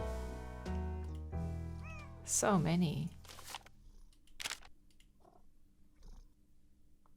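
A domestic cat meows several times and purrs softly in a quiet indoor room, close to the microphone, while a person speaks briefly over it.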